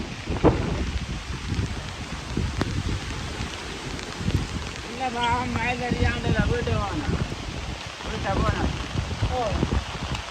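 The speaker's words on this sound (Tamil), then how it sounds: "நல்ல மழை பெய்யுது" Heavy rain falling over flooded village fields, a dense steady patter with gusty wind noise and occasional sharp drops, while a voice speaks over it partway through.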